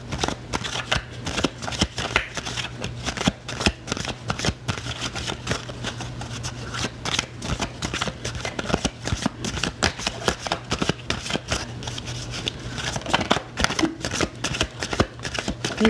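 A deck of gold-trimmed tarot cards is shuffled over and over, a dense crackling patter of rapid riffles and flicks that goes on close and steady with no pauses, alone, over a faint low hum.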